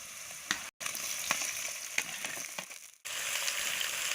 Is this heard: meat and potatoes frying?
yes